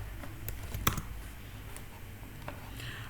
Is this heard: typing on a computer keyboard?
yes